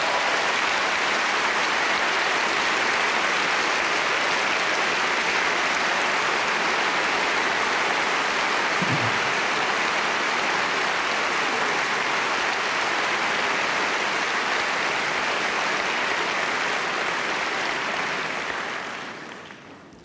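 Sustained applause from a large audience at the German Film Awards 2012 opening speeches, dense and steady for nearly twenty seconds before fading out at the end.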